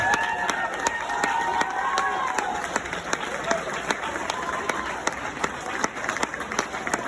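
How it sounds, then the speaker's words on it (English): A wedding crowd applauds the best man, steady clapping with some cheering in a large room, moderately distant and continuous, mixed with background chatter. "a big round of applause for best man Michael"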